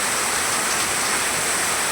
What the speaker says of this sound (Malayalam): നല്ല മഴയാണ് നമ്മളിവിടെ.